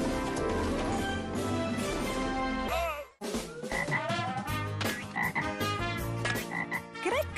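Frog croaking in a Disney Junior channel bumper ident, loud and close, set against bright jingle-style music with a brief drop to near silence about three seconds in before the croaks and music resume.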